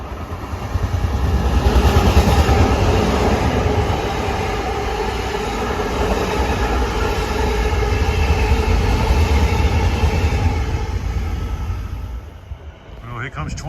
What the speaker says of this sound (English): Here comes 2761 off the Far Rockaway branch to Grand Central. He's got M9s.